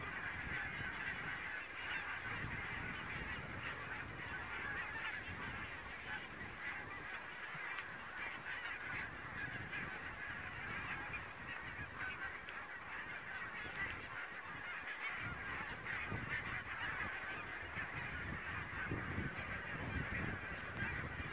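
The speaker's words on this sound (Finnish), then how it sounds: "On muuten pikkasen hanehia." A flock of geese honks nonstop for about twenty seconds, a dense outdoor chorus of overlapping nasal calls at moderate distance, with no one talking.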